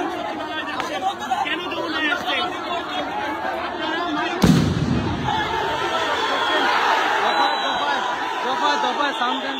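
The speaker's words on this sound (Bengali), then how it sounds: "দফায় সাউন্ড গ্রেনেড নিক্ষেপ করছে।" A police sound grenade goes off with one sharp, loud bang midway through a student protest at BUET, cutting through the continuous murmur of crowd chatter before and after.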